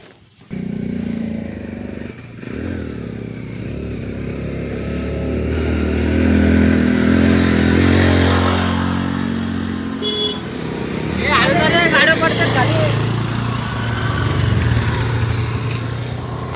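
Motorcycles and a car labour up a steep hairpin turn on the road to Lohagad, engines revving and swelling louder midway, with a horn toot, while people talk over the traffic.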